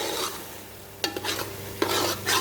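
A spoon stirs grated carrot roasting in a pan for gajar ka halwa, giving soft scraping strokes with two sharper clinks against the pan over a low sizzle.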